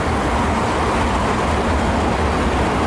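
A high-capacity train crosses a new railway bridge on Melbourne's Cranbourne line, giving a loud, steady rushing rumble that fills the whole stretch without a break.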